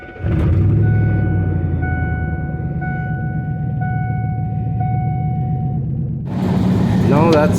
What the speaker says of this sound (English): This thing's definitely misfiring, and it's down at least one cylinder